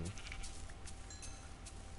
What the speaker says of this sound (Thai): เราจำได้เราเห็นแกะดำนะไปไหนแล้วล่ะ